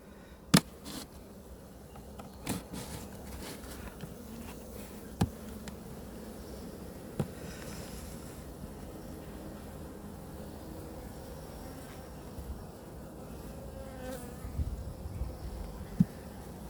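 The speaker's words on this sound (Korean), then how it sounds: "일단 봉지 안에 벌이 좀 들어가 있기 때문에" Honeybees buzz around an opened beehive during a winter inspection, a steady dense hum with individual bees passing close, punctuated by occasional sharp clicks and knocks from handling the hive.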